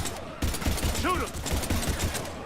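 Dense, rapid gunfire from a firefight in the video game Mass Effect 3, played on Insanity difficulty, bursts stacking loudly over one another, with a player's voice speaking now and then over the shooting.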